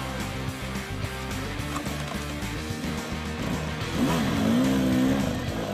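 Enduro motorcycle of about 300cc revving hard on a race climb as its rear wheel spins, a rough fluctuating engine note that swells into a sustained, louder whining rev toward the end.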